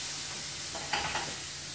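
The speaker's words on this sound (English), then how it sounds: "We've got potatoes sizzling in the pan as well." Bavette steak and potatoes sizzle in a frying pan: a faint, steady sizzle with a couple of brief crackling bursts near the middle.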